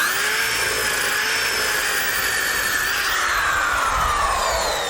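A belt sander runs steadily while a sanding belt cleaner, mounted in a vise, is pressed against the moving belt during work on a custom carved wood sign. A loud, continuous whine and rasp with rising and falling pitch, no talk.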